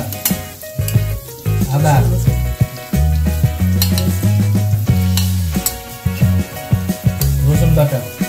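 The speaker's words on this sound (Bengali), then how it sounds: "এখন ভালো মতো কষিয়ে নিতে হবে মশলাটা।" A spice paste of ground onion, chili, cumin, ginger, garlic and garam masala, made for beef curry, fries and is stirred in a pan, giving loud sizzling and scraping in an irregular rhythm under brief speech.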